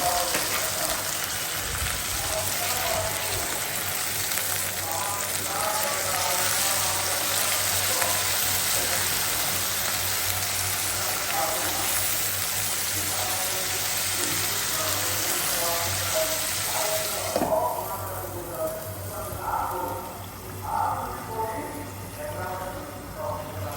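Water poured into a pan of frying onion with ginger and garlic paste sets off a steady, close sizzling hiss that continues throughout, with a voice talking over it.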